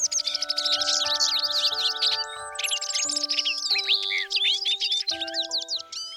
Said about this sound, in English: listening to the singing of the birds that welcomed her and celebrated her arrival